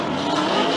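A Scion tC and another drift car in a Formula Drift 2015 Palm Beach round, heard as a brief, loud, steady blast of engine roar and squealing tires with no pause.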